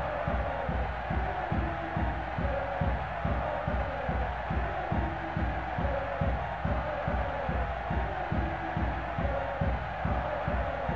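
Stadium crowd in the 2001 soccer video game Soccer America: International Cup, a dense steady roar of many voices with rhythmic chanting pulses, continuous and fairly loud throughout.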